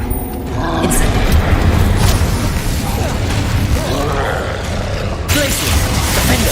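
Incendio fire spell blast in Hogwarts Legacy: a loud, sustained roaring whoosh of flame with crackling and low rumble, holding steady for several seconds.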